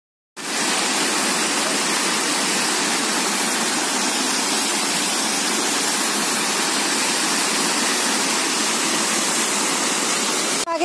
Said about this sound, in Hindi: तो अभी मैं आप लोगों को वहाँ का व्यू या वहाँ की जो फीलिंग है वो देने के लिए आपको वहाँ के जो झरना है उसकी आवाज़ सुनाऊंगी।